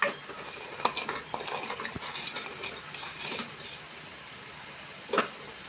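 A spoon stirs onion and tomato masala for paneer biryani in a pan, giving scraping and clinking strokes over a soft, steady sizzle, with one sharper knock near the end.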